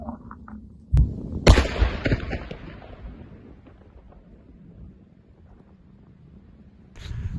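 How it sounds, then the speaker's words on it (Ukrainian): A sharp crack is followed moments later by a much louder explosive boom from a police bomb squad's controlled detonation of an unexploded Russian warhead using standard explosives, then a rumble that gradually dies away into quiet. "будемо проводити знищення шляхом підриву з використанням штатних вибухових матеріалів"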